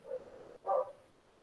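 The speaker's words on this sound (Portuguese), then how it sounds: "O cachorro começou a latir aqui, só porque a aula começou" A neighbor's dog barks twice, the second bark louder and more sustained, fairly distant with no talk over it.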